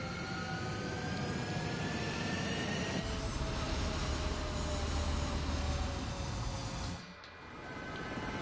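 A jet fighter roars on the runway during takeoff in the video game Ace Combat, a loud sustained engine whine and rumble that shifts in pitch, then briefly dips before swelling again.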